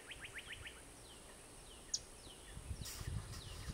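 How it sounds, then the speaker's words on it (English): Small birds chirping in a blossoming pear tree in a yard at dusk in spring, quick faint tweets and short call series scattered over quiet outdoor background, with a soft rustle near the end. "There's birds in the branches and bees."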